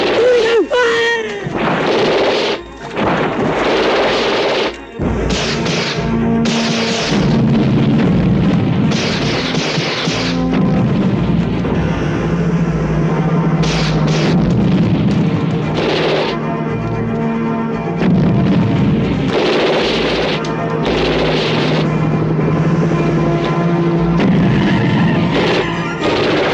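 Gunfire and artillery explosions in a 1988 war action movie boom loudly in repeated heavy blasts and crashes, some sharp and some rolling, mixed with shouting voices and dramatic score.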